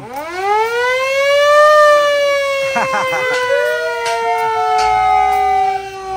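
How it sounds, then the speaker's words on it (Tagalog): An air siren on a fire truck winds up and wails loud and close with a long rising and falling tone, sustained for several seconds. "Air siren."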